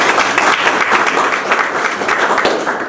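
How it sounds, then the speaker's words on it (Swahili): An audience at a Montessori college ceremony in Lushoto claps in dense, sustained applause that holds at a loud, even level throughout without a break. "basi tunampigia makofi na yeye hata kama hayupo"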